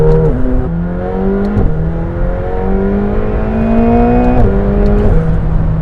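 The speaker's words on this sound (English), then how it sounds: "That was a third gear pull." A McLaren 720S with a 700-horsepower engine accelerates hard in third gear, its close, loud engine note climbing steadily in pitch through several quick upshift dips, with a whirring mechanical whine running underneath.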